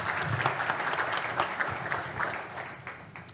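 An audience at a sports performance awards event applauds in a steady, moderately loud patter of many hands that runs without a break and slowly fades toward the end.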